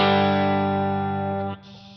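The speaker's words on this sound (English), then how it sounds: "When we push it with the overdrive, we'll be able to get things a little bit clearer." Electric guitar through an overdrive effect on a Line 6 HX Stomp or Helix, with delay and reverb added, rings out as a sustained, harmonically rich distorted chord that decays and is cut off near the end, with no talking.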